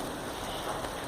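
Rain falling outdoors onto a camera tripod and nearby surfaces, a short burst of constant close hiss without speech.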